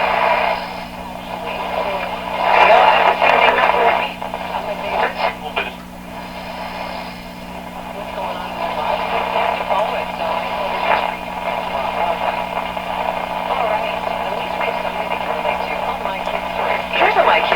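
A 1929 Victor RE 45 radio receiver plays steadily throughout, its broadcast sound carrying a constant hum and broadband noise with brief louder swells.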